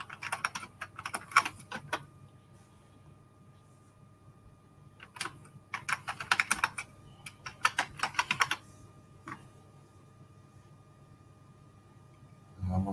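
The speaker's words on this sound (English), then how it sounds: "I was in the middle of typing out a message." Bursts of typing on a computer keyboard, quick key clicks in several clusters with quiet gaps between, close and fairly soft.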